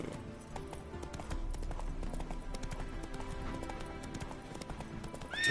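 Hooves of Geralt's horse Roach in The Witcher III clop in a steady rhythm under game music, moderately close, with a brief whinny-like cry at the very end.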